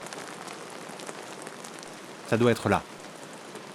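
Heavy rain pattering steadily on surfaces outdoors, a dense, even hiss throughout, with someone briefly speaking partway through.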